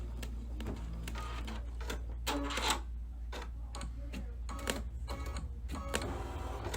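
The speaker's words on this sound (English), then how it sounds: "so I am finished embroidering this design" An embroidery machine stitches a design, giving a steady low hum with rapid rhythmic clicking and tapping close by, with no talking.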